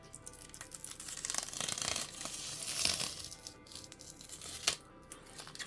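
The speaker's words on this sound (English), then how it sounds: "let me get rid of this plastic" Plastic wrap pulled off a new MelGeek MADE84 Pro keyboard during unboxing, a quiet close crinkling and tearing that rises and falls in uneven bursts.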